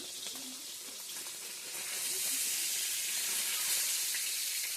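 Fish sizzles in a pan for a home meal, a steady bright hiss that swells louder partway through and holds, with no voices over it.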